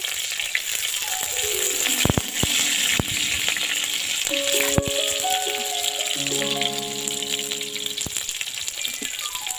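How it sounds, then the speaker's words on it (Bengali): Chopped tomatoes and slit green chillies frying in a pan of hot oil: a steady, loud sizzle with occasional rattles and stirring clatter, and no talking. "চিরা লঙ্কা দিয়ে দিচ্ছি এবার এটির টমেটো কুচি দিয়ে দিচ্ছি"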